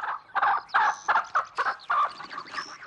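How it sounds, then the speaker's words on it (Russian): Rooster in a farmyard gives a run of loud, close, clucking calls in quick bursts, several short squawks in an uneven rhythm. "По двору бежит рыжий петух."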